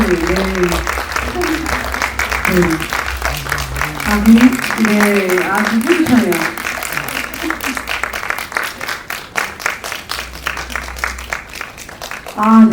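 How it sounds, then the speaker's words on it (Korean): An audience claps at a Korean film press screening while a host speaks over it, with the applause fading under the talk and swelling briefly at the very end. "끝까지 박수 감사드립니다"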